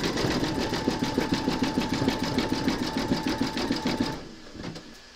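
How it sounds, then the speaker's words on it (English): An embroidery machine stitches round 13 of a large in-the-hoop scarecrow applique, joining two segments with a fast, steady mechanical rattle and hum that runs loud and close for about four seconds before stopping abruptly. "Pop your hoop into your machine and stitch round number 13, and that's going to secure the two segments together."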